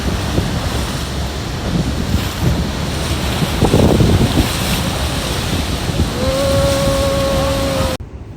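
Roaring water of the Rhine Falls in Switzerland and wind buffet the microphone on a boat approaching the falls, with a boat motor droning underneath; a steady engine tone emerges near the end before the sound cuts off.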